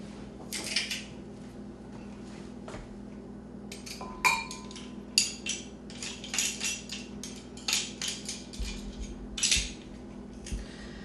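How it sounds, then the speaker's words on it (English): Metal kitchen utensil clinks and clatters as a fresh garlic clove is squeezed through a garlic press, a series of sharp close metallic taps and scrapes over quiet room tone. "We're going to press in a clove of garlic."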